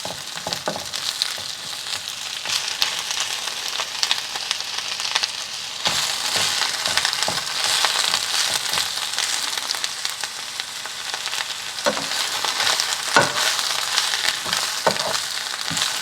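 Spinach wilts in a hot frying pan while being stirred, giving a continuous close sizzle with scraping, stirring rustles throughout and a few louder bursts where the leaves are turned.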